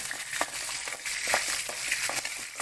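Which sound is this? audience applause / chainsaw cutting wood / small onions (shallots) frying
small onions (shallots) frying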